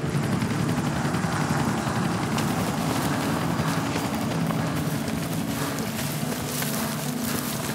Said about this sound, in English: So the helicopter will find a group, fly,